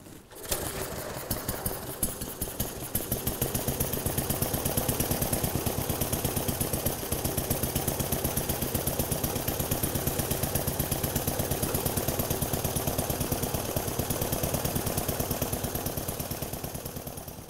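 A classic motorcycle engine being prepared for display splutters into life and then settles into a steady, rapid single-toned chug, running continuously and fairly close with an even mechanical pulse and no talk.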